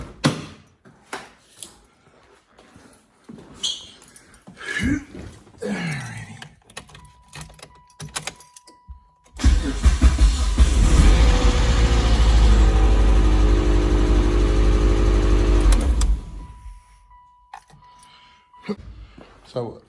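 A 2001 Mitsubishi Mirage engine, reassembled, cranks and catches, then runs loud and steady for several seconds before shutting off, with someone talking before and after.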